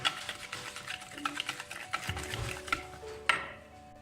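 Flour is mixed into milk for pancake batter, heard as light, irregular taps and scrapes of a utensil against a bowl, fairly close and soft, ending with a sharper clink, without any talking.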